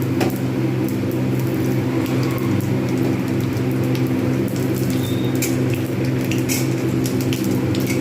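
Whole cumin, dried chilli and bay leaf crackle in hot oil for a fish-head curry, a dense, steady sizzle with scattered pops and spits, close and fairly loud, with no talk.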